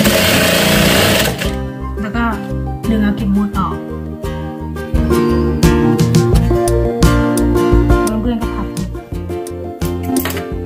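A sewing machine stitches a bag in quick mechanical bursts, loud and close, starting and stopping repeatedly with its motor whirring between pauses; someone speaks intermittently alongside the stitching.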